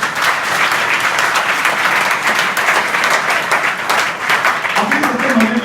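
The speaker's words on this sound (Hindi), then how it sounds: "ताली बजाओ" Schoolchildren in a classroom break into loud, sustained applause, many hands clapping together in a dense, even burst that fills the room, with a voice briefly heard near the end.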